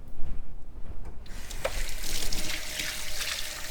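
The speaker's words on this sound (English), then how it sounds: "let me just rinse my hands" Running tap water splashes over hands rinsing off avocado in a kitchen sink, a steady close hiss of flowing water that starts after a brief quiet moment and continues without talk.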